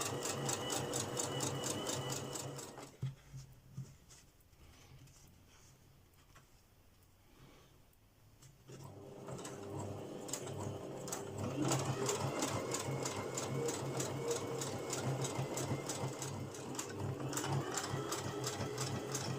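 A sewing machine runs close by as it seams a fabric panel for a homemade bushcraft sewing kit, buzzing rapidly in a steady run, pausing for a few seconds, then starting up again and stitching continuously.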